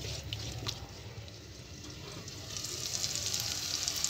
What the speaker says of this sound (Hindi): मैं इसके साथ ही मैं भूनूँगी इतनी देर कि टमाटर वगैरह जो है हमारे अच्छे से भुन जाए।